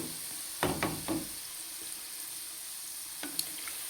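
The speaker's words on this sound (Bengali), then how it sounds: "আমি গ্যাস একদম ধীরে রেখে ফ্রাই করছি" Gulab jamun fry gently in oil over a low gas flame, giving a soft, steady sizzle broken by a few light clinks and stirring knocks.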